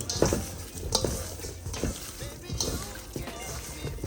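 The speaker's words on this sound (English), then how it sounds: "Add it right in, and then we're going to start mixing." Seasonings being mixed in a mixing bowl while preparing Southern fried chicken, making a scraping, stirring rustle with a few sharper clinks, close and moderately loud, with some talk in the background.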